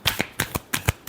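A short, close run of tarot card shuffling: five or six sharp papery riffles in a fast even rhythm, with no voices.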